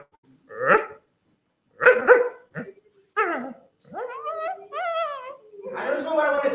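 A dog barks and yips in several separate bursts, some short and sharp, others whining and drawn out, fairly close and loud against an otherwise quiet background.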